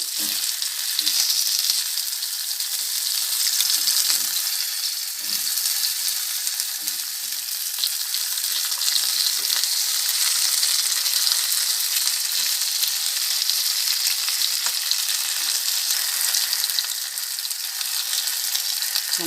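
Fish 65 pieces fry in a little oil in a pan, a close, continuous hiss and sizzle lasting the whole stretch, broken by occasional low knocks and scrapes as pieces are turned, with no one speaking.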